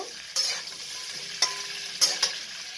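Green chillies and ginger pieces frying in a pan, a close, steady oil sizzle broken by a few sharp spatula scrapes and clinks.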